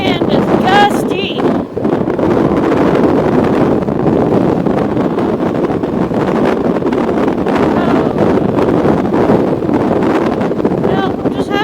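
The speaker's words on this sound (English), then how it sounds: "Oh, that wind is gusty." Gusty wind roaring steadily across the microphone while riding a motorcycle through Poudre Canyon, a loud continuous rush with buffeting swells and faint voices breaking through now and then.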